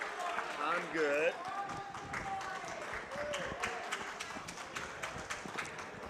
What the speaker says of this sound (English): you might as well keep clapping